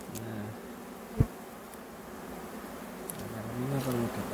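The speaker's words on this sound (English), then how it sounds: "Going close so you can have a close look at these bees." Bees hum steadily around an opened beehive frame, a close continuous drone with a brief thump partway through and no voices.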